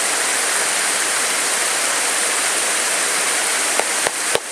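A waterfall at Chestnut Ridge pours in a steady, loud, broadband rush that fills the whole stretch, with a few sharp knocks near the end.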